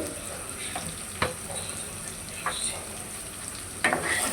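Salt, turmeric, dried chili powder and cumin powder fry in a pan for a jackfruit and prawn curry, with a soft, steady sizzle and a few sharp scrapes of a spoon stirring them.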